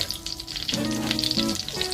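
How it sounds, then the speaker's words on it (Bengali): Whole cumin seeds and slit green chilies sizzle in oil left over from frying prawns, for a ripe cucumber curry, in a brief, close, crackling burst with no voices. "এই গোটা জিরে আর দেবো চেরা কাঁচা লঙ্কা।"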